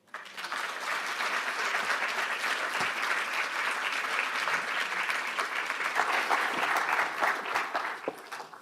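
Sustained applause from a large audience, steady clapping filling the room for several seconds before tapering off at the end.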